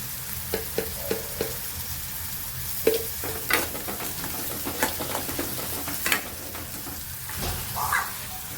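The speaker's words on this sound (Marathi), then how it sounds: "आपला कांदा पटकन भाजेल." Onion fries with salt in a pan under a steady sizzle, close and continuous, with regular taps and clinks of a utensil stirring it and a brief louder scrape near the end.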